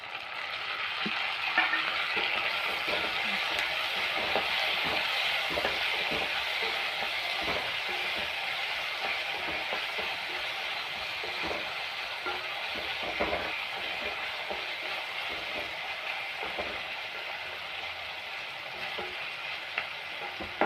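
Chopped tomatoes fry in a pan for vendakka puli kuzhambu, giving a steady, close, even sizzle that runs on without pause and with no talk.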